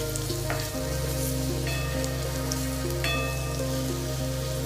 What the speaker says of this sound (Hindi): इन सबको हम भून लेंगे, हल्का सा ब्राउन होने देंगे हम लहसुन अदरक को।